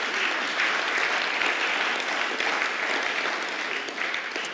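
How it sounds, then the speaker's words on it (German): Warm, sustained applause from a church congregation fills the space, a dense steady patter of many hands clapping throughout with no voices on top. "Herzlichen Applaus für die 2 Steine, Marc und Eduardo"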